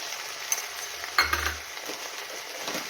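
Greens frying in a pan as red chili powder is stirred in, with soft sizzling under a few sharp clinks of a utensil against the pan, close and fairly quiet.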